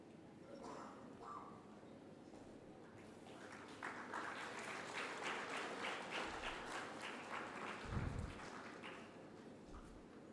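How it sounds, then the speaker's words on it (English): A conference audience at the Springer Nature India Research Conclave applauds the panels, a fairly faint but steady wash of clapping building in the middle and holding to the end, with some murmured voices. "Let's have a huge round of applause for all the 4 panels and our moderators and panelists"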